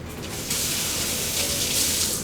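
Tap water runs steadily from a faucet in an art room to wet a balled-up paper towel for clay work, a continuous close hiss and splash with no talking.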